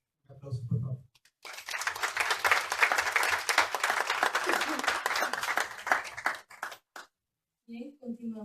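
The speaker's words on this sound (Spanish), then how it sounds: "Un aplauso, por favor." Audience applause at an academic panel on social work, a sustained round of clapping that swells after a short spoken bit, holds steady for several seconds, then fades as a voice resumes.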